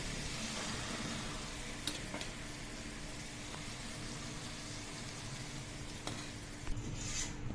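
Rice tipped into a pot for egg dum biryani gives a steady, fairly quiet rustling hiss, broken by a few faint clinks, with no one talking.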